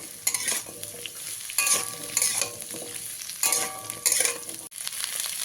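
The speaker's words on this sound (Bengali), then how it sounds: "বাদ বাকি সবজিগুলো দিয়ে সব কিছুকে আবারও ভালো করে ভেজে নেব" Carrots and mixed vegetables fry in a pan for a Bengali veg dal, with bursts of vigorous stirring and clattering spatula scrapes over a steady sizzle, close and loud with brief pauses between bursts.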